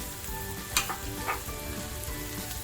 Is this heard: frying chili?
yes